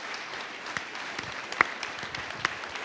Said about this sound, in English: please give them another well-deserved round of applause